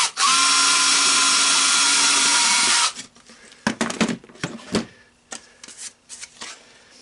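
A power drill bores a 1/8 inch hole in an ATV key switch mount, a loud steady whine lasting about three seconds, then stopping, followed by scattered clicks and handling knocks.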